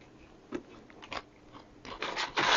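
Crunchy activated nuts bitten and chewed up close, a few sharp crunches at first, then a louder burst of crackling bites near the end, with no talking.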